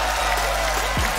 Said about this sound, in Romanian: noi ne pregătim aplauze pentru Teodora